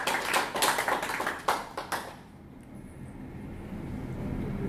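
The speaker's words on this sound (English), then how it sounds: "We should give them a round of applause for that." A small tech-talk audience claps briefly for the Drupal security team, with a sparse, close burst of hand claps for about two seconds before it drops to quiet room hum.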